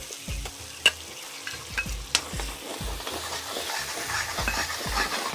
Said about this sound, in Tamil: இப்போ நல்லா வெங்காயம் வதங்கி அந்த எண்ணெயெல்லாம் வெளியே வரும்